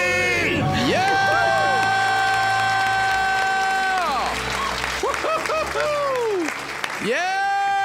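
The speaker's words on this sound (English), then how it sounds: "Let's hear a debt-free scream." A couple gives a debt-free scream in a studio, long sustained shrieks and whoops ringing loud and close over continuous cheering and clapping from a crowd, with voices shouting throughout.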